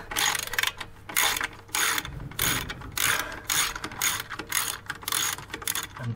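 Ratchet clicking in quick repeated bursts while undoing an exhaust fitting on a Yamaha XJ600N motorcycle, about eight close, loud rattling strokes separated by short pauses.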